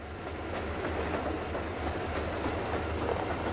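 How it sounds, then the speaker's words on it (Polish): A steam train runs on rails in the Metro Exodus video game, with a continuous rumble and rhythmic clickety-clack of wheels over track joints, loud and steady throughout, no voices. "Nie sądziłem, że będziemy kierować koleją w tej grze."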